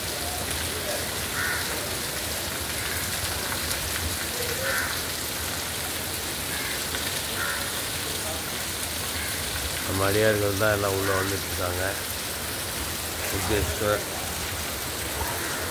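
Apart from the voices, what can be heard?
early morning heavy rain at Murudeshwar temple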